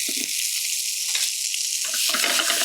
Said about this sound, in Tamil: 4லேருந்து 5 நிமிஷம் நல்லா வதக்கி எடுத்துருங்க